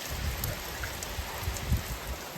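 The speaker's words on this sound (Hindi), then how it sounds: "एक ही जगह पर तगड़ी बारिश हो रही है, उस साइड को भयंकर बारिश हो रही है" Heavy rain pours down in a hilly mountain area, a dense, steady roar of drops on surfaces that holds at an even level throughout, with no voices.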